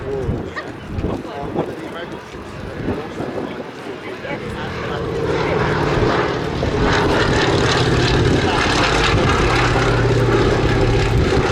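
A Fairey Swordfish biplane flying a wing-waving pass at an air display, its propeller engine drone building from moderate to loud and holding steady as it comes by, with someone commentating over it throughout.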